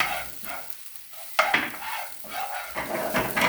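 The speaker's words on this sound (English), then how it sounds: "So add your ginger and keep giving that a nice stir." Ginger and cumin seeds fry in a pan for mung daal, a steady close sizzle broken by scraping strokes of a spoon stirring against the metal.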